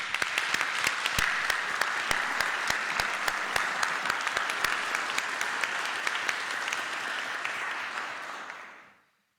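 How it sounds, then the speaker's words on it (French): Audience applause at a town council installation meeting, a crowd clapping steadily with crisp individual claps standing out, sustained for about eight seconds before fading out quickly. "je vous propose de les applaudir"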